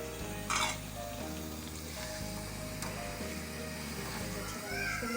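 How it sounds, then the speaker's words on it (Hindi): Chickpeas sautéing with chicken, lemon juice, green chilli, ginger and spices in a pan, a steady moderate sizzle with stirring scrapes, and a voice talking over it. "थोड़ा भून लेते हैं ताकि तमाम मसालों का जायका छोलों में अच्छी तरह जब हो जाए"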